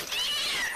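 A single short, high meow from a cat in the Chainsaw Man anime, heard clearly and close with no talking over it.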